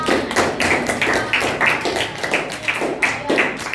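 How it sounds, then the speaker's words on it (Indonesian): Applause from a classroom group of students cheering on a presenting team, steady overlapping claps filling the room at close range with no talk over it. "tepuk tangan semuanya untuk kelompoknya"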